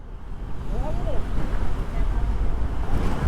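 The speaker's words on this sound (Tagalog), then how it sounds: "Lakas ng hangin, grabe." Strong wind during heavy rain at a fiesta roars and buffets the microphone as a continuous, rumbling gusty rush, with a brief voice heard faintly over it.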